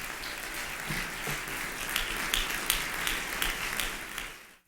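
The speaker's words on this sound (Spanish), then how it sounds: "give Jesus Christ a great applause" A church congregation claps loudly for Jesus Christ during a bilingual sermon, dense sustained applause with sharp individual claps throughout, fading out abruptly at the end.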